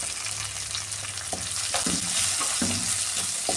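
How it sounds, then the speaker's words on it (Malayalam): Green chillies, dried chillies, curry leaves and shallots crackle and hiss in hot oil for a fish curry, a steady loud sizzle punctuated by several sharp spatters and pops. "ഇനി ഈ പച്ചമുളക് ഇട്ട് കൊടുക്കാമേ ഈ വറ്റൽമുളകും കറിവേപ്പിലും ചെറിയുള്ളിയും ഇട്ട് കൊടുക്കാം"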